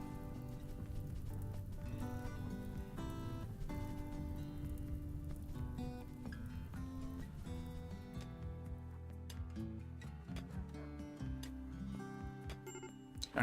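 Torrential rain falls in the colony-building video game Rimworld, a steady patter of drops under tonal game music throughout.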